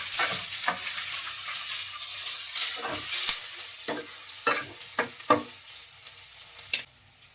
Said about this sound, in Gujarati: ઘી ગરમ આપણું થઈ ગયું છે। આપણે હવે પહેલા લસણની કળી નાખશું।